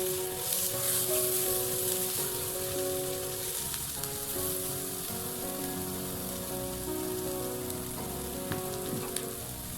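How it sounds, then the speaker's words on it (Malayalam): Salted sliced onions frying in oil for chicken samosa filling, a steady close sizzle with occasional soft scrapes as they are stirred toward golden. "അപ്പോൾ അതൊരു ഗോൾഡൻ കളറാകുന്നത് വരെ നമ്മൾ ഇളക്കിക്കൊണ്ടിരിക്കണം."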